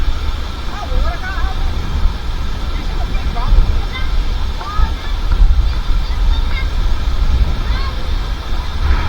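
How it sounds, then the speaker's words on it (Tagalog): Typhoon wind roars steadily across a boat harbor while waves surge underneath, a constant loud, gusting wash with people talking faintly through it. "may naputol yung bangka doon grabe talaga tong bagyo na to"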